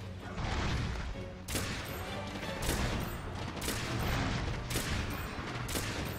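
Rapid volleys of piercing ammo gunfire in Monster Hunter World, several loud bursts of shots repeating over a dense, continuous din of game noise with no one talking.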